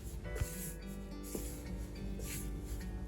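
Focaccia dough of flour, extra virgin olive oil and salt being mixed by hand with a scraper, giving soft steady rubbing and scraping, close and continuous, with no talk.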